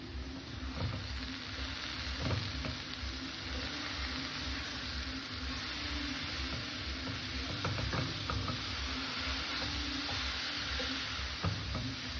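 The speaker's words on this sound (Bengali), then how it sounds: "অফ ক্যামেরায় চারটে পাঁচটা বড়ি ভেজেছিলাম সেটাকেও দিয়ে দিলাম" Radish curry (mulo ghonto) frying in a pan with fried lentil dumplings (bori), a steady broadband sizzle with occasional clinks and scrapes of stirring, moderately close and without any talk.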